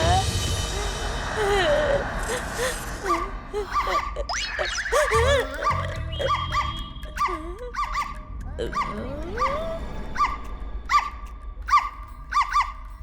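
A man imitates dog barking in a comic horror-film scene, a run of yelps, whimpers and squeaky woofs mixed with other voices and music, some close and loud.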